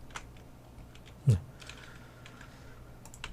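Scattered keystrokes on a computer keyboard, used for Ctrl+D shortcuts while toggling color nodes in DaVinci Resolve 15, with one louder thump in the middle and faint clicks spread around it.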